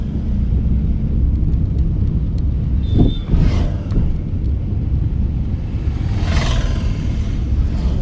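Inside a car driven by a learner, a steady low road rumble and wind noise fill the cabin, with a brief louder swell around the middle; no talking.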